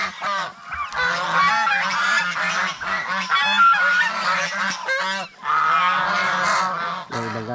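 A flock of geese kept outside and fed in the morning honk loudly and continuously at close range, overlapping calls in quick bursts with only brief pauses.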